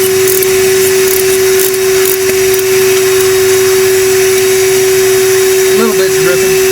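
A vacuum runs loud and close with a steady whining drone and a strong fixed tone while filters are changed on a Kubota B2650 HST tractor, people talking faintly over it.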